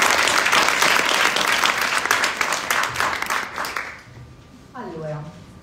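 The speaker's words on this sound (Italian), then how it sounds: "fare un altro applauso per la splendida associazione di Vertigo che ci ha ospitato qua oggi" Loud applause from an audience at a debate event fills most of the moment, then tapers off into quieter room noise and a brief voice near the end.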